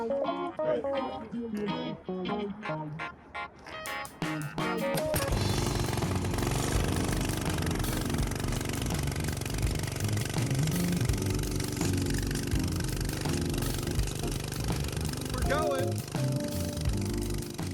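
A homemade go-kart built from scrap parts runs its engine loudly and continuously, with a dense, rough roar that starts after a few seconds and keeps going without a break.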